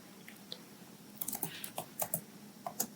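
Rapid clicking keystrokes on a computer keyboard as code is typed, quiet and close, starting sparse and then forming a brisk burst of taps with no speech.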